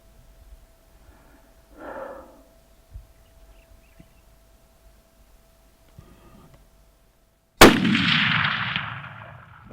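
A single loud rifle gunshot on a South African safari hunt cracks sharply, then rolls away in a long echoing boom, after several seconds of faint breathing and quiet rustling.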